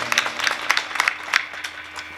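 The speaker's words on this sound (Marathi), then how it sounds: "महाराजांसाठी एकदा सर्वांनी जोरात टाळ्या वाजवा." Audience clapping for a performer at a Marathi kirtan devotional gathering, a loose burst of scattered hand claps that thins out over about two seconds.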